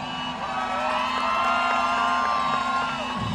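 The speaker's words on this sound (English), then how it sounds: "Crowd starting to get into the action here." Rodeo arena crowd cheering before bull riding in Mercedes, Texas, a steady distant roar of many voices with scattered whoops, continuous and moderately loud throughout.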